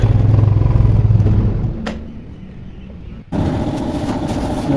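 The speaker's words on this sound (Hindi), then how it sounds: "जब हम सेल मारते थे इसमें सेल की आवाज़ आती थी जैसे कोई गरारी फंसती है" A Royal Enfield motorcycle with a faulty self-starter gives a loud, rough mechanical rumble that cuts out, leaving a quieter gap, before a sudden thud brings the harsh clattering noise back, close up.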